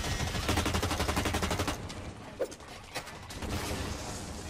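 Burst and automatic gunfire from the shooter game Blacklight Retribution, rapid close shots ripping in a steady stream, then scattered, quieter bursts.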